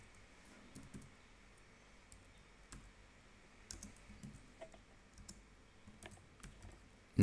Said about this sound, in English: And I'm gonna type that here.